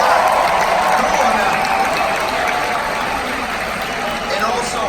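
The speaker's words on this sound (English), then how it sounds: "Give yourselves a round of applause." Graduates applauding at a 2019 undergraduate business school commencement ceremony, a dense, steady wash of clapping and crowd noise that fills the whole stretch at full loudness.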